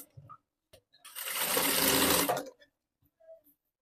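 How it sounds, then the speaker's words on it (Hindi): Close by, a sewing machine runs in one continuous burst of about a second and a half while stitching a princess-cut blouse with four tucks and a belt, framed by small handling clicks and near silence. "तब इसमें मैं सिलाई लगा रही हूँ"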